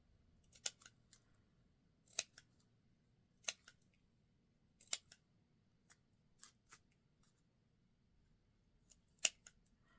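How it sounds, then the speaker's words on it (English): Scissors snipping triangles into paper petals cut from upcycled book pages, giving quiet crisp clips in small irregular clusters with pauses between, close and alone in a hushed room. "you're just going to cut little triangles from each petal, like so."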